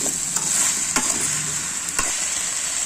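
Vegetables stir-fried with plain salt in a home kitchen pan, a steady close sizzle with scraping stirs and small spatula knocks against the pan throughout.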